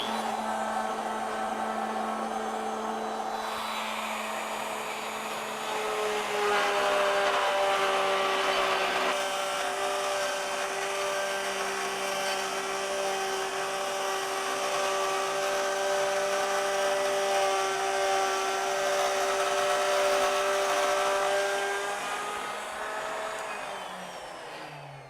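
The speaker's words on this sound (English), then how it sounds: "Again, we'll start at 6 inches and plunge down and make the next cut." Revo router plunging into wood and cutting a bead, a steady loud whine with a strong tonal hum that rises slightly in pitch and intensity as the bit bites in, running continuously before easing off at the end.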